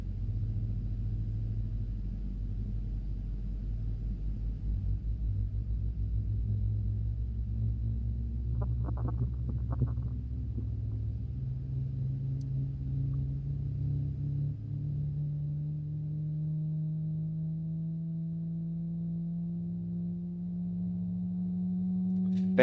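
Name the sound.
Boeing 777-300ER jet engine starting in flight simulator video game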